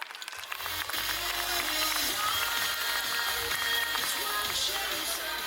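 An audience at a school annual day breaks into sustained applause, dense, loud and steady from start to finish with no talk over it.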